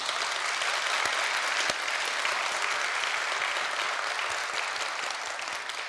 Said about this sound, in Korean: 여러분 함께 해주신다면 박수로 화답해 주시면 고맙겠습니다.